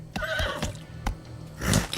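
A horse whinnies in a lottery advert, a bright quavering neigh followed by a few sharp hoof-like knocks and a low snort at the end.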